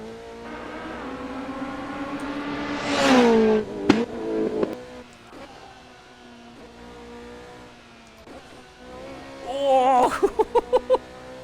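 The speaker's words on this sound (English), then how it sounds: "the tone of it sounds more like a motorbike engine as opposed to your standard car engine" Race car engine in the Assetto Corsa sim, its nasal, motorbike-like tone rising in a loud rev near the start, dropping away, then returning as a burst of sharp rapid upshifts or blips toward the end; no talk over it.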